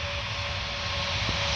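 A Wizz Air Airbus A321 jet taking off at Paris Orly Airport gives a loud, steady engine roar with a thin whining tone running through it.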